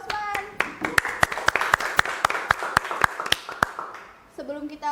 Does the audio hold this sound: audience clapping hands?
yes